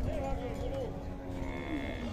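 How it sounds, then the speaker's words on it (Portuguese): Cattle at a livestock fair in Buíque, Pernambuco, give a loud, drawn-out moo close by, with steady pen and crowd noise behind it. "O boião chegando aqui, ó."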